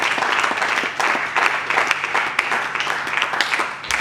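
A congregation at a church wedding ceremony bursts into loud, sustained applause acclaiming God: dense, continuous clapping and crowd noise that stays steady throughout.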